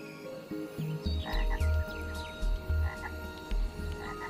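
A chorus of frogs croaks in deep, rhythmic pulses, several low croaks overlapping in a steady, close pattern with fainter calls behind.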